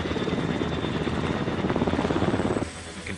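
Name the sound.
helicopter engines and rotor blades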